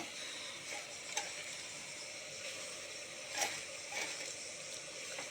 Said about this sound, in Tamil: கீரையை போட்டு நல்லா வணக்கி விட்டுட்டு